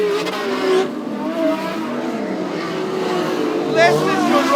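Modified sedan race cars roar around Cairns Speedway, engines droning and revving continuously at close range while a commentator talks over the racing.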